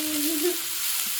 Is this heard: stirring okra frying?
yes